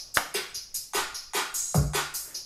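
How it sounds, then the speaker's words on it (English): Trap-style drum groove with a repeating pattern of sharp hi-hat and snare-like hits over a deep kick, steady and close, played alone without voices. "I made this sort of drum groove yesterday evening."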